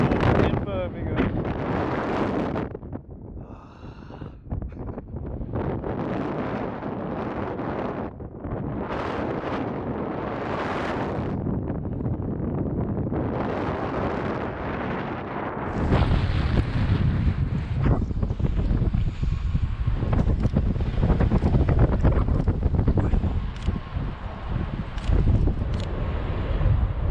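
Heavy wind of about 40 mph buffets the microphone almost without a break in outdoor Birmingham. It roars louder in the second half, with a voice breaking through now and then.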